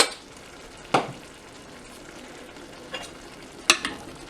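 Tourtiere meat filling simmering and sizzling in a pot, a soft continuous bubbling hiss broken by a few sharp clinks and scrapes of a spoon stirring.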